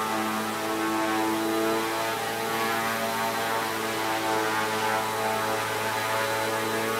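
An FW200 RC helicopter lifts off and hovers indoors, its rotor giving a loud, steady, unbroken whir with a constant buzzing whine and no voices.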